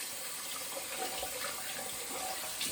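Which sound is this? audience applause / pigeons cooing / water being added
water being added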